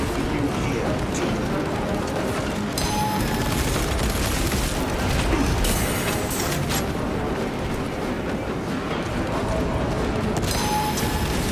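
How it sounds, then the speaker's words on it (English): Grenade blast and continuous gunfire in the video game Space Marine 2, a dense, loud barrage of shots and explosions running throughout, with voices talking over the combat. "it's a grenade"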